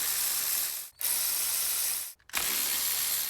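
A ratchet with an extension works loose 10 millimeter nuts on a Toyota Sienna thermostat housing, giving two long runs of rapid, close clicking separated by short pauses.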